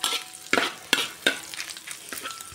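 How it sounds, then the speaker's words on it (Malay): Anchovies fry in a little hot oil, a soft sizzle broken by several sharp scraping stirs, close up with no talking. "kita goreng."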